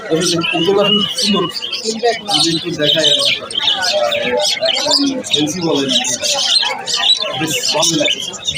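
Lovebirds and other caged birds at a rural bird market chirp, tweet and squawk densely and continuously, with people talking among the calls.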